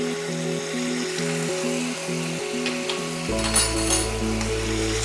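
Chicken frying in a pan for pineapple chicken, a constant close sizzle with light clinks under steady background music that grows louder near the end.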